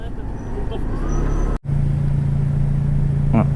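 Street traffic in Cyprus with many motorbikes and vehicles makes a continuous close roadway rumble, with engines droning and a brief dropout partway through. Someone talks over the traffic.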